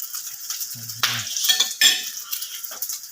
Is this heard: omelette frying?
yes